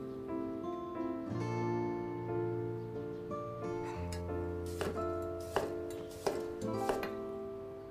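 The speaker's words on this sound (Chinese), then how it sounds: "直切，大块留皮，茄肉紧实，一般用来做茄子肉饼或者清蒸凉拌。" A knife cuts straight down through an eggplant on a board, leaving large skin-on chunks. A few distinct, spaced chops land late in the clip, fairly faint beneath sustained background music.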